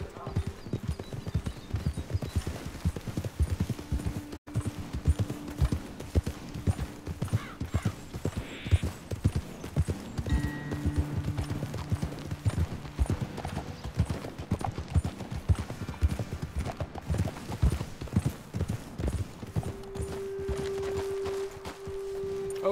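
Horses clip-clopping steadily at a walk in Red Dead Redemption 2, hooves thudding close and even over several beats, with occasional snorts and faint game music beneath the dense hoof rhythm.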